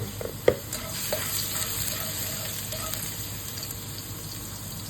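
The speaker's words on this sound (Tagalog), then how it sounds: "Magigisa tayo ng ating gulay." Vegetables sauté in a hot frying pan, with a steady sizzle punctuated by a sharp clank of utensil against the pan early on and a few lighter scraping stirs afterward.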